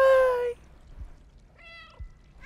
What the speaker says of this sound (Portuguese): eu só consigo miar